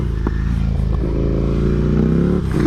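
A Ducati motorcycle on a road, its engine note rising as it accelerates, loud and close, with a brief clatter early on.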